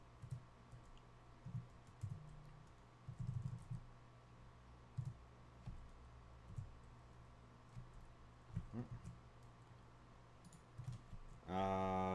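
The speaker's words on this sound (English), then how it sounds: "I'm typing this out" Computer keyboard typing while working out a zombie arcade game design, soft scattered key clicks in irregular bursts, fairly quiet and close, ending with a brief louder tonal sound.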